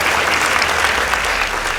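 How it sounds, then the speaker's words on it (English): A school debate audience bursts into applause for one of the competing secondary school teams, a loud, dense, steady wash of clapping from a large crowd filling the whole moment. "Please give them a round of applause."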